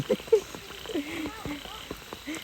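Banded bullfrogs croak at night after heavy rain, a close cluster of short throaty calls repeating irregularly over damp background noise.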